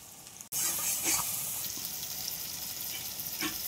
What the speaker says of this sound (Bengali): আবার একটু নাড়াচাড়া করব